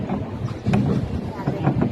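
Gusty wind buffets the microphone in uneven bursts while people talk faintly on a paddle boat amid the rushing, blustery noise on open water.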